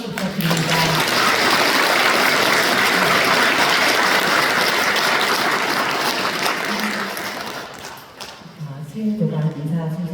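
Big, loud applause from a congregation at a Won Buddhist temple service, dense and continuous for about seven seconds before tapering off as a voice begins speaking over the last moments.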